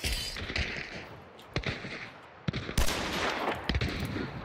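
Rapid gunfire in the online shooter Hunt: Showdown: several sharp, loud shots crack out in irregular bursts, some close together, over a constant gritty ambient game background with no talking.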